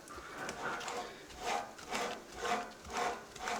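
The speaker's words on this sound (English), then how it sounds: "mixing it up a little bit, trying to combine the hamburger meat and the pork" Ground hamburger meat and pork being mixed together by hand, heard as a quiet, soft rhythmic rubbing and squishing that repeats about every half second.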